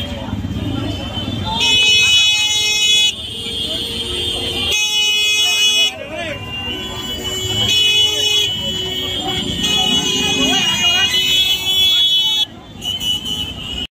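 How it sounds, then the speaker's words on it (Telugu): Dense street traffic in Old Delhi near Jama Masjid, with car and truck horns honking almost nonstop in long overlapping blasts over engine noise, as someone talks close by. "ట్రాఫిక్ అయితే చాలా ఉంది."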